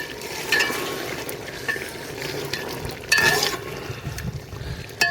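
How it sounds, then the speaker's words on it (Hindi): Chicken karahi bubbles and sizzles in the pot as lassi is mixed in, with repeated close spoon scrapes and clanks over a steady frying hiss. "अब इसमें लस्सी डाल दी है, इसको मिक्स करेंगे"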